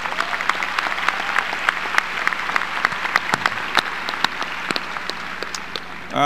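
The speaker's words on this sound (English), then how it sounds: "Please join me in a round of applause." An audience applauds at a live-streamed event, with dense sustained clapping lasting several seconds that is loud and steady before tapering slightly.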